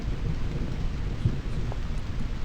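Steady rain pours with a low rumble of thunder rolling underneath, a continuous dense wash of sound with no voices.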